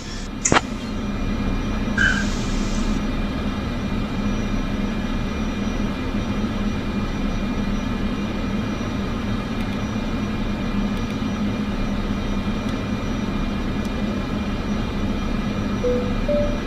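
Cessna Caravan 208 turboprop in a flight simulator game, holding short of the runway before takeoff: a steady, loud idling engine drone runs throughout with little change and no talk.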